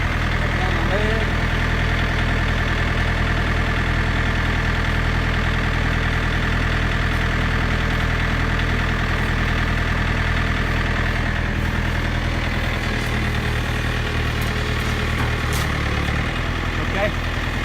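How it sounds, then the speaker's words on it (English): A tractor engine idles steadily and close by during a deer skinning, a continuous low rumble with no change in pace throughout. "now we're going to just ease the tractor back."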